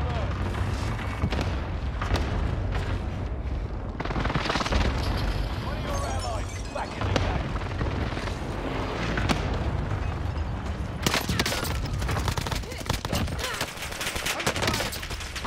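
An enemy airstrike in Call of Duty Warzone brings dense, loud explosions and rapid gunfire. Booms and bursts overlap continuously, with voices talking through the barrage.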